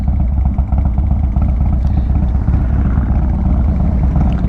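Harley-Davidson motorcycle engine running steadily while ridden hard, a loud continuous low rumble with wind noise, close and constant throughout with no voices.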